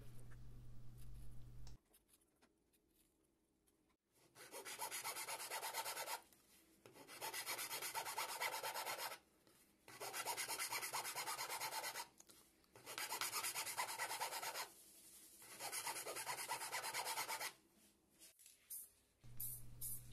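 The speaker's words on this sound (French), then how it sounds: "J'arrondis les bords des étoiles pour que ce soit plus joli." A file rasps along the edges of the star spokes on miniature aluminium wheel rims for a model camper van, in five steady bursts of scraping strokes separated by short pauses, close and quiet.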